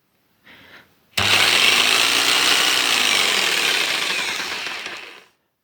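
A Tekhas TA-01-580 electric jigsaw switches on abruptly after a brief faint buzz and runs loud and steady at a high speed setting, a harsh sustained whine that tapers slightly before cutting off.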